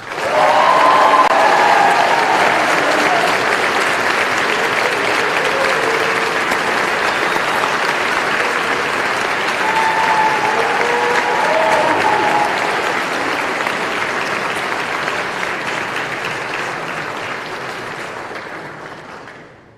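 Sustained applause from an audience at a school senior honors night, clapping steadily after an award recipient is named, dense and fairly loud throughout before tapering off at the end.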